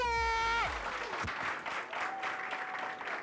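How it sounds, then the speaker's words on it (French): Audience applause at a French-language lycée trophy ceremony, a steady wash of clapping that swells in after a brief sustained tone and continues evenly to the end. "Je demande qu'on applaudisse pour eux."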